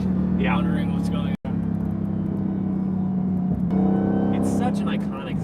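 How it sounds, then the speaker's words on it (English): A Dodge Challenger SRT Demon engine drones with a steady high-pitched supercharger whine, loud and close, while people talk over it. "Such an iconic sound, that whine."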